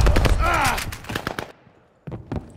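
Gunfire in the video game Call of Duty: Vanguard, with rapid bursts of shots mixed into game voices shouting in the first half, then a lull and two sharp shots near the end.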